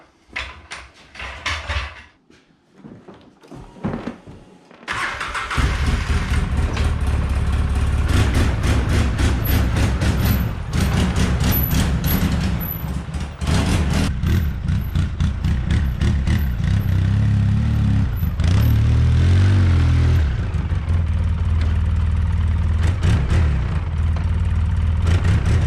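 A Polaris Sportsman ATV, just repaired after its reverse stopped working, cranks over with a few brief bursts and then catches, settling into a loud, steady close-up engine drone that runs on continuously with slight revving variations.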